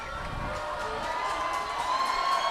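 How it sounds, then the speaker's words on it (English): Baseball stadium crowd at a Binghamton Rumble Ponies vs Reading Fightin Phils game, cheering and shouting steadily throughout with a swelling roar toward the end, broad and fairly distant. "Crowd is getting wild here."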